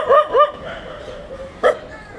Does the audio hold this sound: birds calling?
no